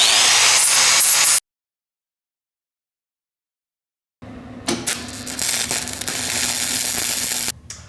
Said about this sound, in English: you want to just grind this down a little bit, get rid of any oil residue on the saddle itself